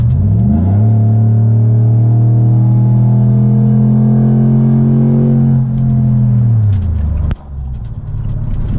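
A 2008 Chevy Silverado 1500 with a 4.8L V8 and longtube headers revs up close, holding a loud steady drone near 2,000 rpm before the pitch drops and the engine settles back toward idle.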